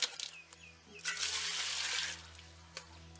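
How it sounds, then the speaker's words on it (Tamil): About five kilograms of goat meat are rinsed under plentiful poured water for Chettinad uppu kari. A steady splashing, running-water hiss carries throughout, broken by a few soft knocks and drips. "தாராளமா தண்ணி ஊத்தி வெள்ளாட்டு கறியை நல்லா சுத்தமா கழுவி எடுத்துக்கலாம்."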